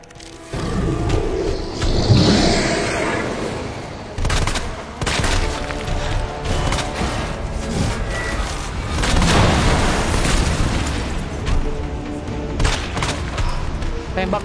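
Dense handgun and shotgun fire rattles through a zombie survival video game, with heavy booms and rapid shots layered almost continuously, while a player talks over the action.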